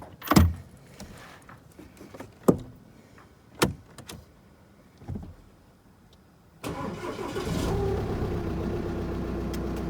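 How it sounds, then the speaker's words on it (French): Audi A4 B8 2.0 TDI diesel on its first start: a few clicks and thumps, then the engine cranks, catches and settles into a steady, close idle rumble. "C'est parti, premier démarrage."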